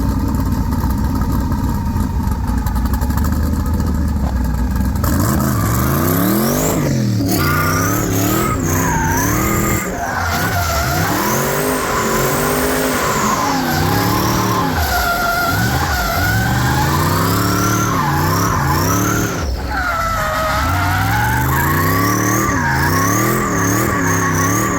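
A car doing a burnout at a drifting and burnouts show roars continuously, its engine revving up and down in sweeping waves while tires squeal loudly throughout, close and intense for the whole stretch with no talk.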